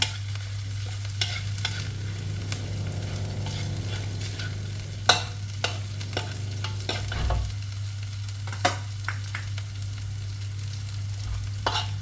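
Garlic frying with salt in a pan for a Thai pickled mustard greens and pork soup, a steady sizzle under occasional clinks and scrapes of stirring.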